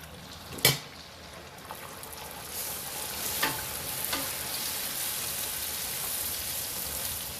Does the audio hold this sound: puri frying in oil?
yes